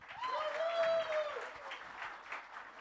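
Light audience clapping at a song launch event for an anthem against plastic pollution, soft and scattered under a sustained tonal sound, with a few louder claps near the end.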